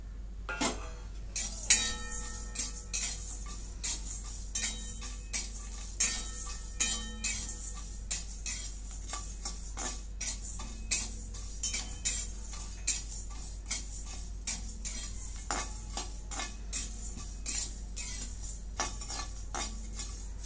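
Whole spices such as fennel, black pepper and royal cumin being dry roasted in a pan for mutton curry, with a long run of dry scraping and clinking stirs at an uneven rhythm over a faint hiss, close and without talk.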